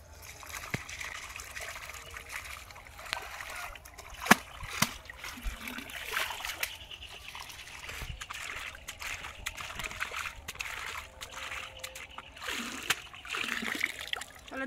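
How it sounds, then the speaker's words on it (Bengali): Drumstick flowers are swished and rinsed in pond water outdoors, with irregular close splashes and trickles over a quiet background and a few sharper knocks. "চলো পুকুরে ভালো করে ধুয়ে নিয়ে নেবো।"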